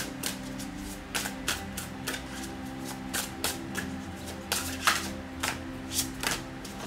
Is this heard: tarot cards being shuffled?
yes